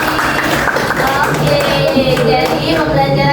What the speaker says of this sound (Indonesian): beri tepuk tangan untuk Aisy.